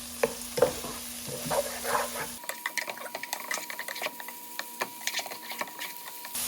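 Thai green curry with coconut milk simmering and cooking down in a pan, giving a soft close sizzle with frequent light clicks and scrapes of a spatula, with no talking.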